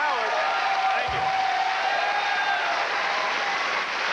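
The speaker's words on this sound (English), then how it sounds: "Let the audience applaud." A Tonight Show studio audience applauds in a steady wash of clapping, with voices talking over it throughout.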